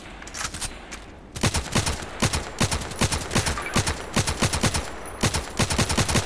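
Rapid bursts of automatic gunfire in the online shooter Contract Wars crack out in quick, rhythmic volleys, close and loud, after a quieter opening stretch with no talking.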